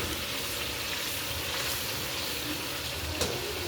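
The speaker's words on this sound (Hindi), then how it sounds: "साग को तड़का मैंने लगाया है सब्ज़ लहसुन और अदरक, सब्ज़ मिर्ची" Steady, continuous sizzling of garlic, ginger and green chili tempering in hot oil for saag, a dense hiss with occasional faint clinks, no voices.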